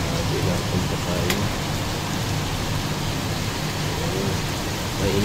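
Rain falls in a dense, steady hiss, with a faint voice or two murmuring in the background.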